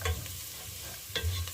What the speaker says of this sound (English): now I'm going to soften these carrots up